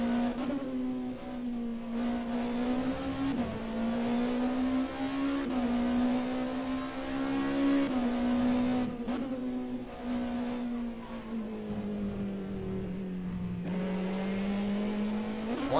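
A rear-wheel-drive Rebellion Prototype 1 race car engine drones from an in-car view, a steady loud tone that rises and dips slightly with shifts and throttle changes, alone without talk.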